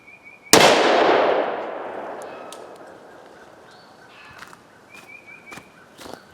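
A single loud gunshot fires a cast lead ball at two separated steel plates, opening with a sharp crack that rings and decays over a few seconds into a quieter outdoor background with faint chirps and light scuffs.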